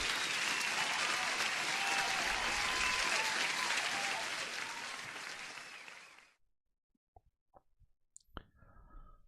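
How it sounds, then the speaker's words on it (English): A burst of crowd applause plays as a sound effect, dense clapping for about six seconds that then fades out, followed by a few faint clicks. "Let me give you an applause since you're brand new."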